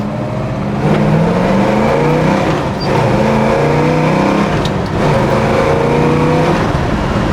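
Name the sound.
1967 Chevrolet Chevelle SS big block engine driving, accelerating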